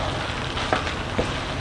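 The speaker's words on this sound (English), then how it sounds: "I just let this to sizzle together" Mixed vegetables for Cameroonian jollof rice sizzle together in a hot pan, a steady close crackling hiss with a couple of brief sharper pops and no talking.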